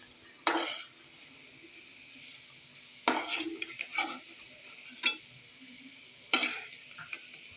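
A spatula scraping sautéed bitter gourd out of a pan onto a plate, sporadic metallic clinks and scrapes spaced a second or more apart, close and clear over a low background hum.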